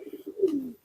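Piikan pigeons coo in a loft, a soft low throaty call rising and swelling once in a rolling phrase, close and clear with no talk.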